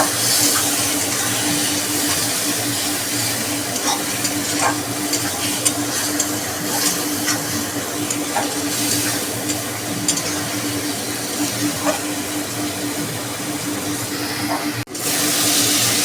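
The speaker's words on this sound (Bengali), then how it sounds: "ভেতরে আমি দেব রসুন, কাঁচা লঙ্কা, আদা পেস্ট করে রেখেছি, আমাদের হলুদ আছে, জিরে গুঁড়ো আছে, সব দিয়ে আমি মশলাটাকে ভালো করে কষিয়ে নেব" A spice paste of garlic, green chili, ginger, turmeric and cumin fried and stirred in a pan, a constant close sizzle with repeated scraping strokes over a long stretch.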